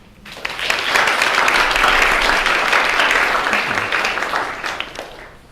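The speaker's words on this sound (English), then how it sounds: "give an initial applause to Abhimanyu Singh" A lecture audience breaks into applause to welcome a speaker, the clapping swelling quickly, holding full and even, then tapering off toward the end.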